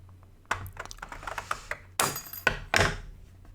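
Close, crisp clicks and snips in an uneven rhythm, a few sharper crunching cuts standing out, like scissors working through stiff material.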